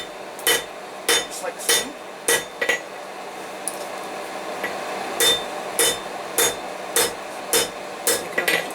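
A blacksmith's hammer rings on hot steel, flattening stock for a twisted bottle opener: sharp metallic blows in bursts of two or three, then a pause and a steadier run of strikes, with a brief spoken phrase between them.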